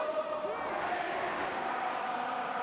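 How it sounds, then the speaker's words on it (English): A rugby stadium crowd at an Ulster match against Leicester sings in a sustained, blended roar of massed voices, loud and continuous throughout. "the crowd know that, and they are singing Ulster on"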